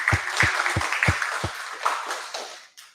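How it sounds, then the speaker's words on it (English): A small meeting audience claps to welcome a speaker, a brief scattered round of clapping with a few distinct sharp claps at first that thins out and fades to quiet within a few seconds. "let's give him a round of applause"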